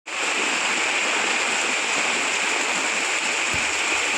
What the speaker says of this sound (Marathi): मुसळधार पाऊस पडत असल्यामुळे इथे नदीला मोठ्या प्रमाणात इथे पूर आलेला आहे